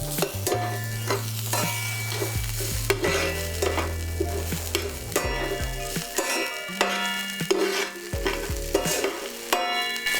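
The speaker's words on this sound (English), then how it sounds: "So just want to shortly fry the onions on medium heat to kind of get the aroma out." Garlic and onions frying in olive oil in a pan over medium heat, a close, steady sizzle broken by repeated stirring scrapes and clinks, with no one talking.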